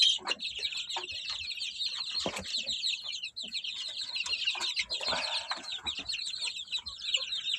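Young chicks drinking water, a dense, continuous flock of high peeping and clucking calls nearby, with occasional soft scuffles and brief wing flutters.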